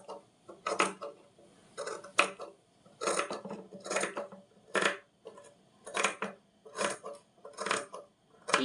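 Scissors cut lining cloth while an elbow-length sleeve is being shortened. About a dozen crisp, evenly spaced snips sound close and clear in a quiet room, with no talking.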